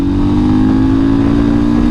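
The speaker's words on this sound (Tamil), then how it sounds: "அந்த ஓஜி ராயல் என்ஃபீல்டு சொல்லி ஸ்டார்ட் பண்ணேன், அந்த பீட்டு." A 400cc single-cylinder Royal Enfield scrambler motorcycle engine revs loudly and steadily up close, a deep thumping beat holding constant throughout.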